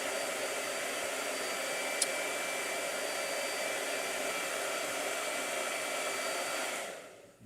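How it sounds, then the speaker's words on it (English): A blow dryer runs continuously with a steady, even whoosh and a faint high whine, then cuts off abruptly near the end. "Oh no, blow dryer again."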